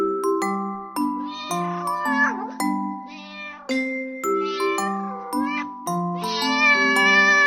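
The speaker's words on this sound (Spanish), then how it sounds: "Gato." A cat meows repeatedly over a steady, melodic tonal backing, each meow clear and prominent, with a bright chime-like accompaniment running throughout.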